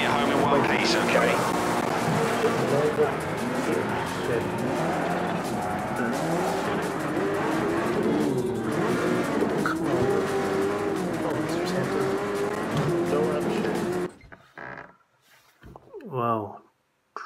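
A race car engine revs and climbs through the gears in Project CARS 3, with rising and falling whine and tire squeal, loud and continuous before cutting out near the end, with a voice speaking over it.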